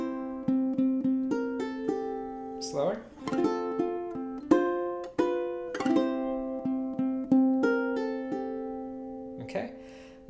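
Fingerpicked ukulele etude with a quick pull-off lick, plucked notes ringing in a steady slow pattern with a few brighter accents; a voice says a single word at the start.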